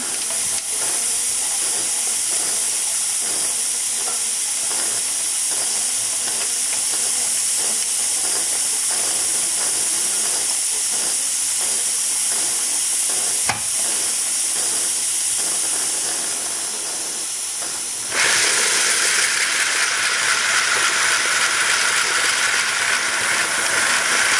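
Aster BR01 live steam model locomotive running on a roller test stand, giving a steady loud steam hiss with rapid chuffing beats that thin out, then a sudden brighter, harsher blast of steam near the end, without speech.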